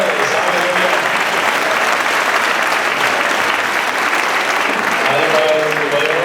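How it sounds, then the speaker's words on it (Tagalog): A church congregation at an anniversary service breaks into loud, sustained applause, dense and continuous from start to finish, with faint voices and cheering mixed into the clapping. "Isang malakas na palakpak para sa Panginoon."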